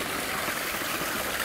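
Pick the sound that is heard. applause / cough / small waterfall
small waterfall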